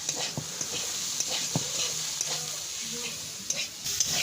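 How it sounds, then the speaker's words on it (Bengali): Potato, pumpkin and bean curry with green chilli frying in a pan while being stirred: a constant close sizzle broken by repeated spatula scrapes and light knocks, no talking. "এখন রান্না হচ্ছে আলু কুমড়োর তরকারি"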